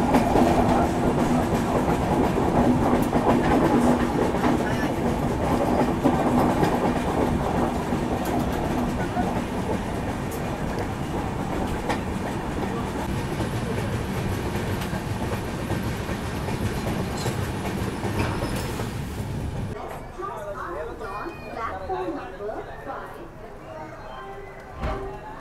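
Kongu Superfast Express train running on the rails, a steady loud clickety-clack and rumble from inside the coach with faint voices underneath, the noise dropping and thinning near the end.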